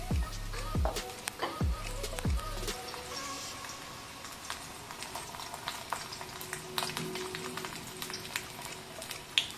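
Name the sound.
leaves dropped into hot oil, frying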